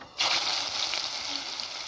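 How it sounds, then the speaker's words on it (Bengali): Chopped onion hits hot oil left from frying fish, bursting into a loud, steady sizzle right after a brief quiet start and holding close and bright throughout. "এখন আমি মাছ ভাজা তেলের মধ্যে দিয়ে দিব পেঁয়াজ কুচি"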